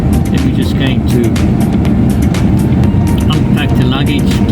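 A car on a self-drive trip along a South African road toward Helderberg College: a loud, steady rush of engine and tyre noise close by, continuous throughout, with a person talking over it.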